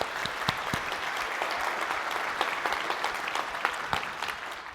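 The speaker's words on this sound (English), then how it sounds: "Give yourselves a round of applause" A large audience claps steadily and densely for several seconds, a continuous wash of applause with no pauses.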